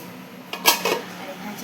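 Bell metal plates and dishes clink together in a brief, sharp burst of two or three metallic knocks at home before a meal, over a low room hum.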